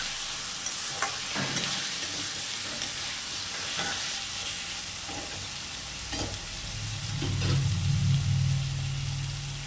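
Potato and shrimp stir-fried in a pan, with soft sizzling and occasional scraping stir strokes throughout, no talk, and a low rumble building near the end.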